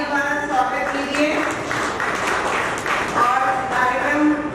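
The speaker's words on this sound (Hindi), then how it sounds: "सभी लोग जोरदार तालियों द्वारा स्वागत कीजिए।" Applause from the audience at a Hindi poetry gathering and book launch in Agra, a sustained wash of clapping heard alongside a speaking voice.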